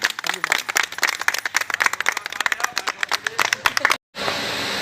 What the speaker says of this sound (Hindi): सभी लोग ताली बजाते हैं एक बार